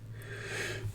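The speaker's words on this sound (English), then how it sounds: "Quick sneeze there by me" One quick human sneeze, close to the mic, with a short breathy intake building up before a sudden loud burst at the very end.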